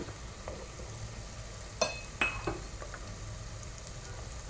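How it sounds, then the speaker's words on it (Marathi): Green peas, flat beans, capsicum and carrots sauté in a pan for veg pulao, a soft steady sizzle close by with a couple of sharp spoon-against-pan clinks and stirring scrapes midway. "आणि गाजर छान असं परतून घ्यायचंय आपल्याला"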